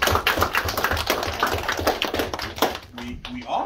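Classroom applause for a sixth-grade essay contest winner, a dense patter of many hands clapping at close range, fading at the end as a voice begins to speak.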